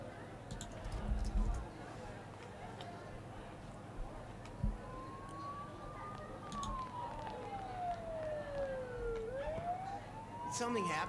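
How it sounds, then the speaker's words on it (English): A siren sounds from outside, rising and falling in pitch with a wailing sweep that grows louder toward the end, heard through room noise with occasional soft bumps. "Don't those sirens sound really close?"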